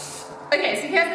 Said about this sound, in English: here I've just got my regular spray and cook, and so I'm actually going to take these out, and then I'm going to spray it thoroughly